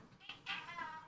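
A cat gives a short, close meow with a rising then falling tone, brief and fairly quiet against a soft background.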